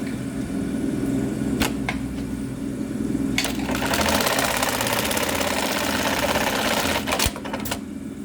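A rebuilt LK1920HA industrial tacking sewing machine with a new control box runs a straight-line tack. Its fast mechanical stitching hum is loud and continuous, broken by a few sharp clicks and thumps as the cycle starts and stops.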